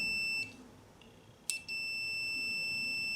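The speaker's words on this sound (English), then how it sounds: "Getting a double beep there." A BTMETER 770G multimeter on a continuity test gives steady, close electronic beep tones that cut out briefly, then sound again in two quick bursts before one continuous tone holds.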